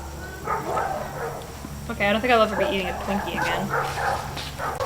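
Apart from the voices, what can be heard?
dogs barking from animal shelter beyond the trees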